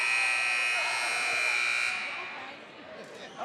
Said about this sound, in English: That was an excessively long buzzer.